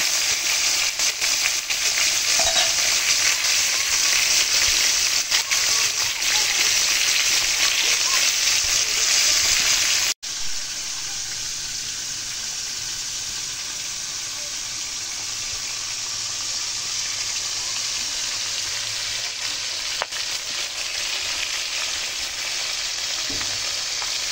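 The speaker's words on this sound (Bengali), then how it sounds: "এই মাছের মাথাগুলো আমি ভেজে তারপরে ভেঙে নেব।" Rohu fish heads sizzle and crackle in hot oil in a wok, a steady, close frying hiss that runs the whole time and drops a little in level partway through.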